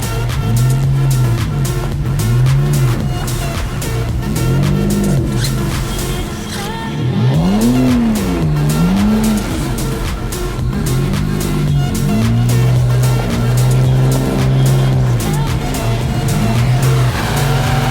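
A Zhiguli car engine revving hard while drifting sideways on winter snow, the pitch repeatedly rising and falling in long surging sweeps, close and loud for the whole stretch.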